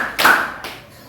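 A single sharp hand clap, close and fairly loud, in a classroom as part of a counted clapping signal, followed by a quieter tap.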